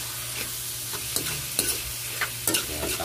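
Tofu, tomatoes, bean sprouts and onions sizzle in a hot pan while being stirred, with steady frying hiss and several sharp scraping clacks of the utensil against the pan.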